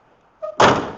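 A scissor-style door on a Lamborghini Murcielago LP640 roadster replica kit car swings shut with a short creak, then a solid close-up thud and latch, fading quickly.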